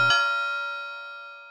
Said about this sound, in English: my front doorbell had gone